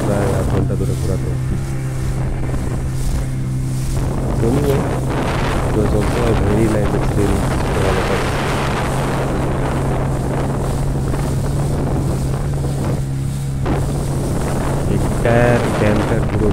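Speedboat on a lake at Maithon, engine droning steadily at close range while water rushes and wind buffets the microphone throughout.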